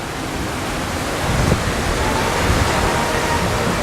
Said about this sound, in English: It's a waterfall.